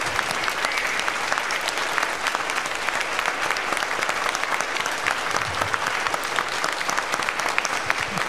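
An audience at an orchestra and choir concert applauds with steady, dense clapping throughout, a full and continuous round of applause with no break.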